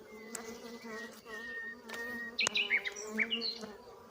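A bee swarm buzzes steadily up close in a droning hum, with a few sharp taps and a higher chirping buzz near the end.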